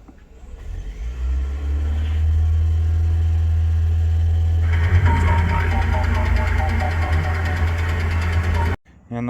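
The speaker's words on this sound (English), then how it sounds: "And after this, start engine." A 2020 Toyota Prius engine starts and runs, with a loud steady hum that builds and then settles, before cutting off near the end.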